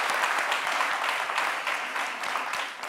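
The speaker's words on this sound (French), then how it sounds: "On peut l'applaudir bien fort." Studio audience applauding a contestant on a French-language TV show, a dense, steady patter of many hands clapping at even loudness with no talk over it.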